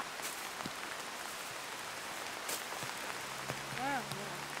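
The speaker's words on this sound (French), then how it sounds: "Il pleut." Rain falls outdoors on Île Saint-Denis as a soft steady patter with scattered drops, a voice briefly speaking and a bird call near the end.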